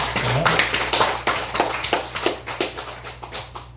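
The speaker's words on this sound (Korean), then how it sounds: "박수 드립니다." Applause from a congregation at a Korean Buddhist Sunday dharma service: distinct, fairly close hand claps in an irregular patter, with a low background hum.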